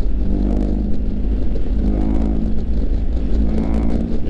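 BMW 1250 GS Adventure motorcycle engine while riding in sixth gear at about 3000 rpm, a loud, deep, steady rumble with wind noise, recorded close and without speech.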